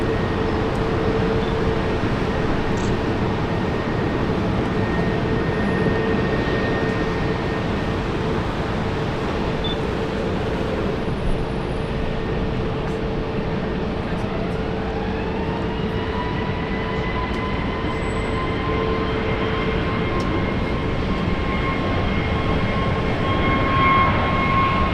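Jetstar 811 airliner departing Brisbane Airport for Sydney, a steady, loud engine roar with sustained tones that rise in pitch later on, heard from the ground at a distance.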